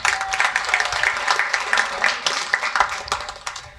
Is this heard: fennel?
no